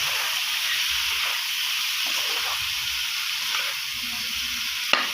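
White pork adobo with garlic sizzles steadily in a frying pan, a continuous bright frying hiss with soft scraping stir strokes and a sharp clink near the end.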